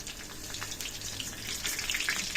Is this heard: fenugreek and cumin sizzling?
yes